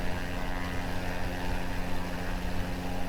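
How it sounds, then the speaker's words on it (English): A propeller airplane engine in Kerbal Space Program drones steadily and loudly, a dense constant hum with no talk over it. "It wasn't a particularly fast airplane."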